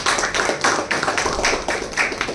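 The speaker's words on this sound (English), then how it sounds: "I'm sure you all be happy to give him a round of applause" An audience applauds an author with a quick, fairly even run of sharp claps, close and loud, with no voices.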